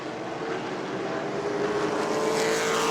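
Race cars roar around the New Smyrna oval during a Hoosier Series event, a steady, loud, dense engine drone holding throughout with no gaps.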